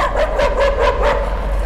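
Steady, fairly loud barking from a dog in the horror game Layers of Fear, several evenly spaced barks in a row over a low background hum.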